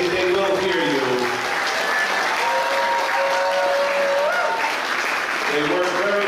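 An audience at a dance camp claps in sustained, loud applause, a dense even patter lasting several seconds, with some voices mixed in.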